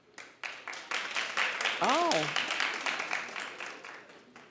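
Studio audience on a daytime talk show breaks into loud, sustained clapping and cheering throughout, with a brief voiced exclamation partway through.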